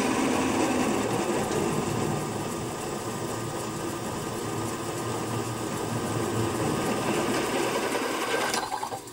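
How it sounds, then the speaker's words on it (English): A machine drill, likely a converted milling or drilling setup in a home workshop, runs steadily and loudly throughout, its continuous motor whine and vibration filling the clip before cutting off abruptly near the end; no talk. "Switch it off and drill a hole."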